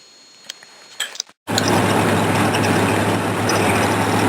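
A rat rod roadster on the road, its engine sounding as a steady loud drone with a constant low hum and wind rush after some brief clicks and a moment of silence, close and continuous.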